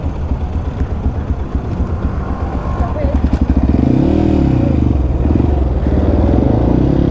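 A motorcycle fitted with a Radamel F4 titanium exhaust rides nearby. A rough, uneven engine note gives way to a louder, steady exhaust drone with a rising and falling rev partway through.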